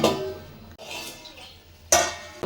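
A spoon scrapes and clatters against a pot of chicken biryani, with bursts of stirring at the start and again near the end and quieter rustling between, close by and alone.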